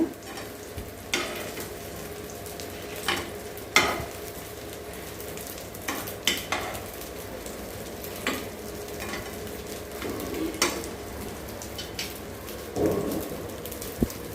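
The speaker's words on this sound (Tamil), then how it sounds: "இட்லி மெல்ல அப்படியே ஃப்ரை ஆகட்டும்" Idli pieces slowly frying in a pan give a soft continuous sizzle with scattered louder pops and occasional stirring clatter nearby.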